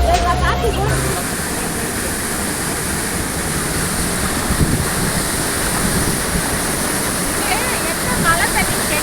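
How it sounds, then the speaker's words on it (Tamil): Broad, steady rushing of the Kaveri River at Hogenakkal roars continuously, loud and close, with faint voices now and then beneath it. "காவிரி ஆத்து தண்ணி"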